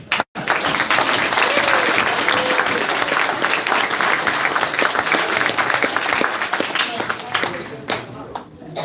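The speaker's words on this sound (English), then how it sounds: "Just want to give a round of applause" Wedding reception guests burst into loud, sustained applause that fills the room for several seconds, with scattered cheering and voices mixed in before it tapers off near the end.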